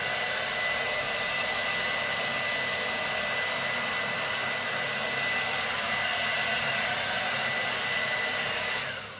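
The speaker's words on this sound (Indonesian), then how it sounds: "Kita kuatkan dengan menggunakan hair dryer." A hair dryer blows on a styled, hairsprayed hairdo before a bun is attached, a loud continuous steady whoosh that holds for the whole stretch and cuts off at the very end.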